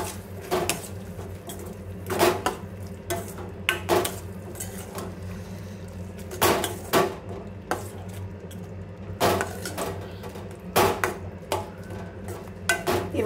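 Spices and masala powders such as coriander and cumin being stirred in a pan for tomato curry: a spoon scrapes and knocks against the metal in irregular clusters of clinks and scrapes over a low steady background hum.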